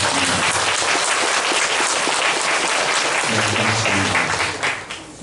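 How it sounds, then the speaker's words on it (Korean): A Korean church congregation claps in thanks at a pastor's installation service, dense and loud applause filling the room continuously before thinning slightly at the very end, with faint voices murmuring beneath. "우리 홀리 마다한 참 어머님께 우리 감사의 박수를 보내주시면 고맙습니다."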